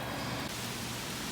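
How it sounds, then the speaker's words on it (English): Steady rain falls outdoors in a backyard with ponds, a dense, even hiss of drops close by with no other sounds. "it's raining now"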